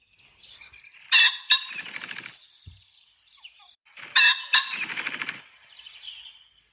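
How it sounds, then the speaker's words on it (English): Two loud, harsh pheasant calls ring out about three seconds apart, each a sharp double burst followed by rapid wing-whirring, with near silence in between. "Pheasant."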